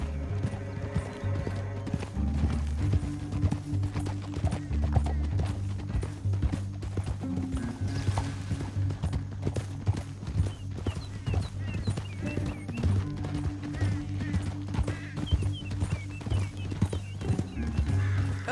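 Horses galloping in the video game Red Dead Redemption 2, a fast, steady clip-clop of hooves running throughout with occasional whinnies, layered over the game's music and ambience.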